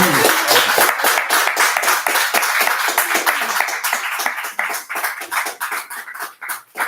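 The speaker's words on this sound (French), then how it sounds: "On termine et on applaudit." Sustained applause from an audience at the end of a lecture on agricultural policy, dense overlapping hand claps filling the room at a steady loud level throughout.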